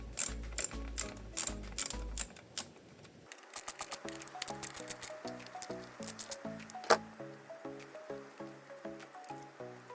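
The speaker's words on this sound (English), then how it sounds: "use the 8mm socket to remove the bolts for the coils" A ratchet with an 8mm socket works the ignition coil bolts on a Mazda 2.5 Skyactiv engine, giving quick runs of close, crisp pawl clicks that fall into a steady back-and-forth rhythm with small metallic taps.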